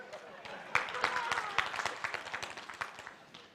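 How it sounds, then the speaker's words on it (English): Conference audience at an urban development event in Uganda claps for a group, a moderate burst of hand claps heard from a distance that tapers off toward the end. "can you clap again for the group?"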